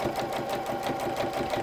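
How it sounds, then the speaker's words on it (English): A sewing machine stitches continuously at a steady, rapid rhythm, close and clear, with no talking throughout. "You will hear a sound difference if you start to stitch through it."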